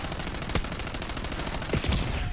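Dense, rapid gunfire from a Warzone video game match, a steady loud stream of shots with a few sharper cracks standing out near the end, with no talking.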